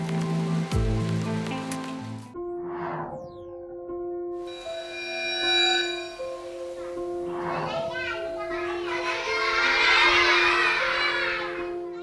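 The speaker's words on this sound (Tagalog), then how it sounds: "biglang bumuhos ang malakas na ulan" Heavy rain pours down at a school, a broad rushing hiss that comes and goes, then swells loudest toward the end, while children talk and play nearby.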